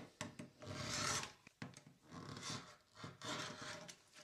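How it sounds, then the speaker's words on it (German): Scissors or a rotary cutter trim the two corners off quilting fabric pieces laid on a paper-piecing pattern, heard as close, soft rasping and rubbing strokes in several short bursts. "Schneide die zwei Ecken ab."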